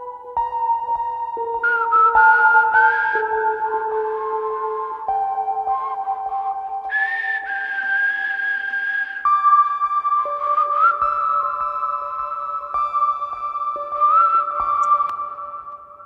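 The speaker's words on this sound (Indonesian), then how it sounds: "Ini sama Siul sih." A whistled melody carries the interlude of a duet pop song, stepping through clear sustained tones with slides between notes, bright and prominent over soft backing for the whole stretch.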